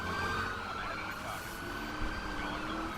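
Police car sirens wail in The Crew racing video game while a BMW R1200GS motorcycle rams police cars, a steady warbling tone held over continuous game engine and road noise for the whole stretch.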